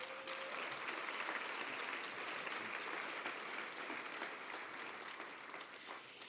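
Sustained audience applause fills a packed, standing-room-only hall at a university evening event, dense steady clapping holding at full strength throughout before easing slightly near the end.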